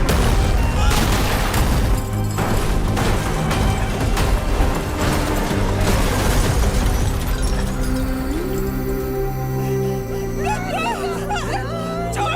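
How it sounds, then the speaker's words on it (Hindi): A chaotic, loud mix of booming bursts and rapid gunfire-like cracks in an action film, ending in tonal sound effects and a brief voice. "एक ही तो गोली चली है गीता जी।"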